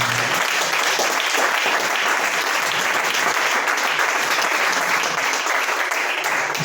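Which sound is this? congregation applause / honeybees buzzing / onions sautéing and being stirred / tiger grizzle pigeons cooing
congregation applause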